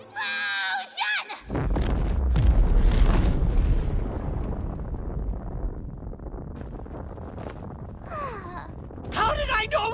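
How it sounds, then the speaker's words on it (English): A huge anime magic explosion spell from KonoSuba, a sudden deep roaring blast that rumbles on for several seconds and slowly fades, preceded by a shouting voice and followed by brief speech and screams. "Explosion!"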